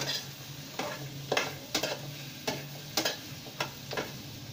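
Khoya for carrot halwa is stirred in a pan, a soft continuous frying hiss with regular scraping strokes about every half second, close and unaccompanied by speech.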